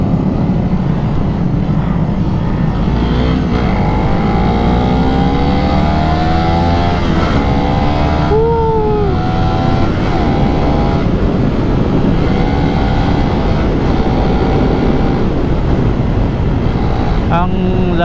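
Suzuki Raider motorcycles with open throttles and rim sets ride in a long group through Davao, engines revving and droning loudly with rising and falling pitch sweeps as bikes pass close by.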